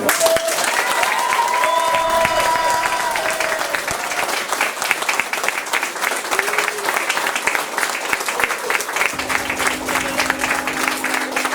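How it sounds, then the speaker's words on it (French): Wedding guests break into sustained applause right after the couple is declared married, dense clapping filling the room, with some crowd voices and a brief tone near the end. "on peut les applaudir"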